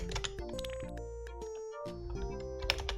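Rapid typing on a computer keyboard sounds as a dense run of crisp, close key clicks in quick, irregular bursts with brief pauses, and no talk over it.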